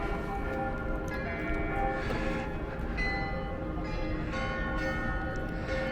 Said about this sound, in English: this is the beginning of the Glockenspiel